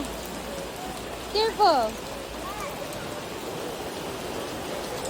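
Steady rain falls on a Krakow afternoon, a continuous hiss of drops on hard surfaces, with a brief spoken word near the start.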